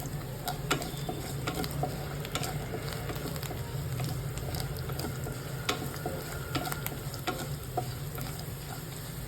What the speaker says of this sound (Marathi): छान भाजून घ्यायचे मसाले टाकून